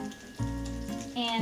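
Bread pieces fry in a pan with a steady close sizzle that swells in two short steps, without any talking.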